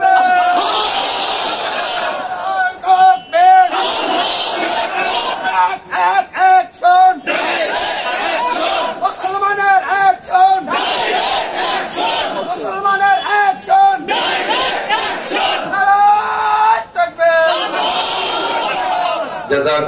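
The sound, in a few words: crowd chanting takbir (Allahu Akbar) at a sermon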